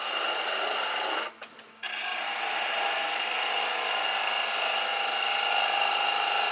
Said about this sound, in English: Side of our gouge, push along, bring the diameter down a little bit